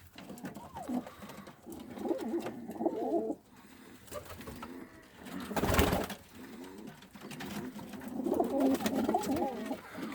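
Pigeons coo repeatedly in a new coop, soft rolling throaty calls in several bursts close by, with a brief rustle or flutter near the middle.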